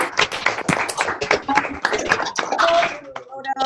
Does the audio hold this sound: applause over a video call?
yes